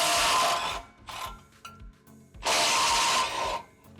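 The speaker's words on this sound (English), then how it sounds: "we need to have some kind of cutting device, and that's where a Sawzall comes in" A Sawzall reciprocating saw cuts through the exhaust pipe of a 1.4 liter Chevy Sonic in two loud, close bursts with brief quieter handling noises between them.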